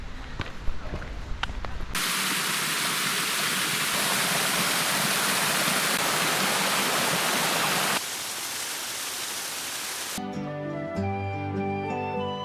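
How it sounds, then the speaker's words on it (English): Rushing waterfall along the West Highland Way in Scotland, a loud, steady broadband roar of falling water that fills the scene for several seconds after a brief quieter start, then cuts away. "There's just been waterfalls the whole way."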